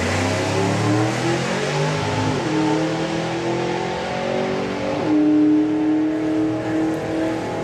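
A Hemi-powered hot rod launches down a drag strip at the NSRA Hot Rod Drags, its engine roaring loudly and climbing in pitch through two audible gear shifts as it pulls away.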